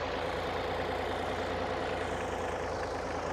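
A Ford 4000 tractor's engine runs at a ploughing match, a steady dense rumble at constant level without pauses, heard close with no talking.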